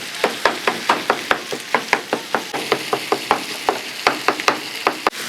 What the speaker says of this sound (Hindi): टमाटर को हमने अच्छी तरह से मिक्स कर देना है।